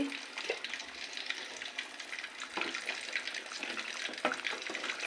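Hot water poured into a simmering curry in a pot, a continuous close splashing, bubbling hiss with small clinks, steady and fairly loud with no talking.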